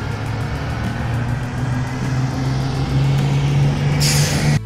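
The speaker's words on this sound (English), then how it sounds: "Bus." A bus idling with a steady low engine rumble, close and loud, ending in a sharp hiss of air brakes releasing near the end.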